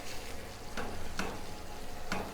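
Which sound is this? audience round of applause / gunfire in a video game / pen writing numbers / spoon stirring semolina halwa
spoon stirring semolina halwa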